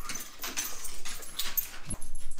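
A dog whimpering and whining in a home, thin high-pitched whines and soft yips near the microphone, continuous and restless with brief rustling.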